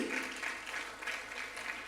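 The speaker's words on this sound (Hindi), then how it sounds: "तालियां तालियां तालियां।" Audience applause at a Jain community event where guests are being honoured, a steady wash of clapping heard faint and distant across the whole moment.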